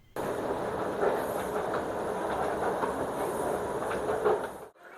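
A London train runs along the rails with a steady rumble and faint clickety-clack, heard from inside the carriage, continuous for several seconds before cutting off.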